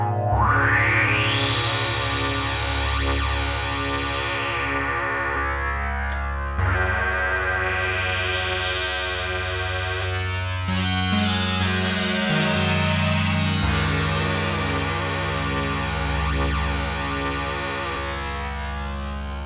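Arturia MicroFreak synthesizer playing a sustained wavetable oscillator tone that slowly morphs and sweeps through bright, buzzy, shifting timbres with distorted, chorus-like character, held continuously and loud without a break, no voices.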